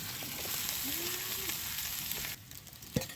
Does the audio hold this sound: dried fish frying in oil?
yes